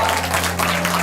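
Brief, steady applause from an audience at a gathering of youth-facility children, a dense patter of clapping over a low constant hum.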